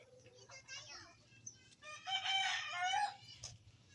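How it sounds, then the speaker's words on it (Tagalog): A rooster crows loudly nearby amid scattered clucking from chickens, over a faint low background hum. "Ang daming manok dito guys. Daming manok"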